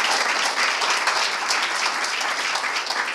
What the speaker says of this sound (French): merci pour ces applaudissements